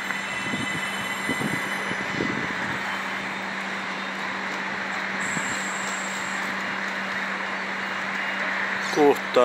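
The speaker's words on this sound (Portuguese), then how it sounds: "estação de trem de passageiros." Passenger train at a station in Adelaide, Australia, giving a steady rumbling hum with a constant tonal whine and occasional metallic clanks, a high squeal and background voices heard faintly.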